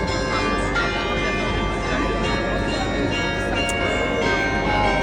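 Church bells in Germany chime out a melody, a sequence of ringing tones with long overlapping decay, heard steadily under a voice talking over them.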